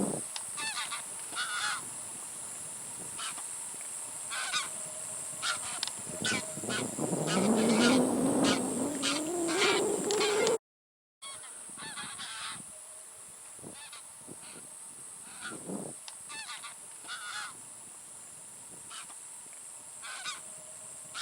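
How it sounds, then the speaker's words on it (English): A flock of migratory bar-headed and greylag geese at Panidihing Bird Sanctuary honks repeatedly in loose overlapping calls, moderately close, swelling into a louder burst midway before a short break and scattered honks resume. "These are bar-headed geese and grey-legged geese."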